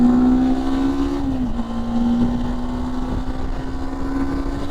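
A road vehicle cruises fast in fifth gear at around 120 on the Pondicherry to Chennai route, its engine giving a loud, steady drone with a slight dip in pitch, set against road and wind noise.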